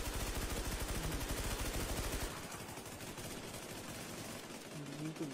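Rapid bursts of gunfire from a shooting video game, steady and fairly loud for about two seconds, then thinner scattered shots, with players talking over it.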